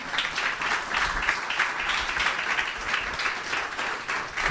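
A church congregation at a communion service applauds steadily, dense clapping from many hands filling the room for several seconds at even loudness.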